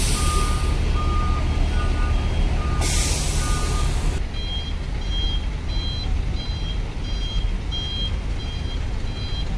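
Trucks and buses reversing in a stalled traffic queue, each beeping in a steady repeated pattern over a loud engine drone, with a hiss of air brakes partway through.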